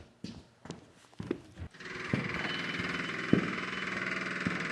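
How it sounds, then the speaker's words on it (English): Electric fuel pump on a Cat skid steer priming loudly, a steady droning hum that starts after a few sharp clanks and holds close and even. "And you can hear she's pretty damn loud when she primes."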